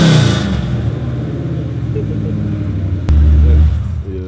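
A Jeep Trackhawk engine revs loudly and close, a deep rumbling roar that holds steady and then surges sharply near the end, with voices talking over it.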